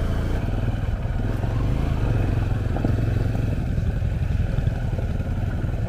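A motorcycle engine runs steadily close by on a mountain road, a continuous loud low rumble with a rattling, clattering edge and no speech.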